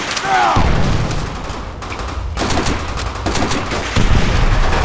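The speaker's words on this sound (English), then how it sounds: "Keep on that MG!" Enemy machine gun fire rattles through a Call of Duty: World at War battle, with loud, dense bursts of gunfire and explosive booms filling the scene and shouted voices mixed in.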